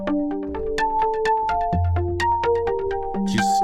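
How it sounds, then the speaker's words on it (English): A Blue-II FM synthesizer plays its Maui Sunset preset through the arpeggiator, giving a fast, steady run of bright bell-like notes over sustained tones, loud and clear with no talking. "Just the arpeggiator sound."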